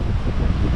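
Strong wind gusting across the beach at a resort in Baler, a steady low roar of buffeting wind noise over a brief stretch with no voices.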